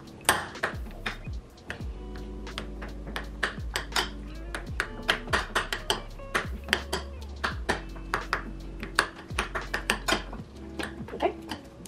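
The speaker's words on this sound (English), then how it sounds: "I'm just gonna add it in here. I'm just gonna" Metal spoon clinking and scraping against a container while Grape-Nuts are mixed into ice cream; bright, rapid, irregular taps and pings go on throughout, with a low hum underneath.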